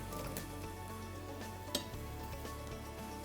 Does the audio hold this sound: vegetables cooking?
yes